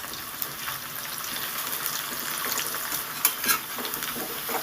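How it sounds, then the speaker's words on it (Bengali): Soybean pieces sizzle steadily as they fry in mustard oil in a pan, with occasional stirring clinks and scrapes close by. "এবার বরফিগুলোকে একে একে ভেজে নেবো"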